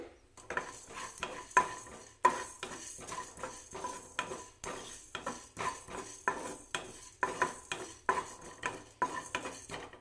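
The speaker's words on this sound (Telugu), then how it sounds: "కడాయి కాస్త వేడెక్కిన తర్వాత ఈ జీలకర్ర మెంతులు ధనియాలు వేసుకోవాలి" Cumin, fenugreek and coriander seeds dry-roast in a kadai with steady, rhythmic scraping and clinking of a spoon against the metal pan. The strokes are quick and close, with no voices.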